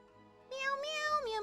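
A person's voice imitating a cat, giving a drawn-out whiny meow after a brief quiet moment, close and fairly loud with a wavering pitch.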